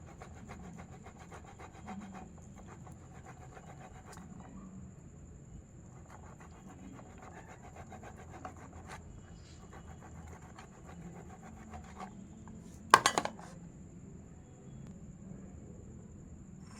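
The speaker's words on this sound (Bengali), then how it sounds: "পনিরটাকে ভালো করে গ্রেট করে নিতে হবে" Paneer is rubbed against a grater in steady, soft rasping strokes, faint and repetitive, with one brief louder clatter near the end.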